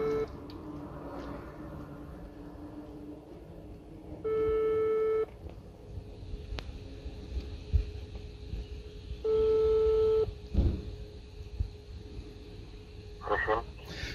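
A steady telephone ringing tone of an outgoing call repeats in long evenly spaced beeps over a quiet room hum, with a brief click and faint voices between.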